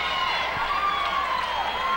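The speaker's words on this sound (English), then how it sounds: "And the bench comes up to cheer." Volleyball team bench rising to cheer during a women's college match in a gym, a sustained wash of crowd voices and shouts at moderate distance, continuous and even throughout.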